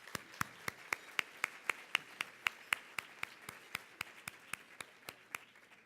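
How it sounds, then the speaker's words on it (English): Steady rhythmic hand claps at an awards luncheon, about twenty sharp evenly spaced claps that are fairly faint, close and distinct rather than a full crowd roar. "Can we just give him a round of applause for this amazing food?"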